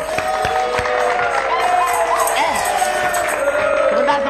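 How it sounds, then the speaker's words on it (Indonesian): An audience at a televised dangdut show erupts into sustained cheering and shouting, a dense crowd roar with scattered whoops and some clapping, loud and continuous throughout with voices mixed in. "Tepuk tangan dong."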